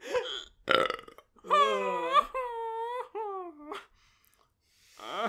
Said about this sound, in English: He burps loud and proud.